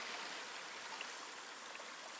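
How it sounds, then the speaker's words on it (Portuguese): Water flowing in a stream at a riverside campsite on the Vale Europeu cycle-touring circuit in Rio dos Cedros, a steady broadband rush with no pauses and nothing else heard. "barulhinho da água,"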